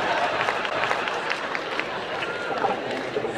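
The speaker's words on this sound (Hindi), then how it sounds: "दोनों हाथ हवा में उठाकर जोरदार तालियां बजाकर" An audience at a college poetry event gives a burst of hearty applause, a thick steady wash of many clapping hands with some crowd noise, heard from a short distance.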